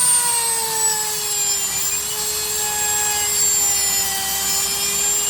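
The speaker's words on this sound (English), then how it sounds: "Just trying to scrape off the excess weld so that the spring can fit in." A power grinder spinning near full speed against a Royal Enfield Himalayan motorcycle side stand to scrape off excess weld, giving a loud, steady high whine with a slowly falling pitch, continuous and close, with no talk.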